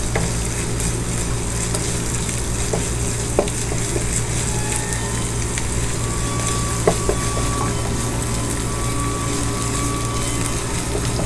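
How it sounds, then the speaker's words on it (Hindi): Onion with a tablespoon of garlic and ginger paste frying steadily in a pan, a constant close sizzle with occasional stirring clinks, no talk. "अब इसमें लहसुन और अदरक का पेस्ट डालेंगे 1 टेबलस्पून। और इसको फ्राई करेंगे थोड़ी देर के लिए।"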